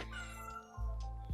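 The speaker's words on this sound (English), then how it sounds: "she's meowing at the door because she wants to get out" A house cat meows insistently at a closed door, wanting to be let out; several drawn-out, fairly loud cries follow one another, close by, with no talk over them.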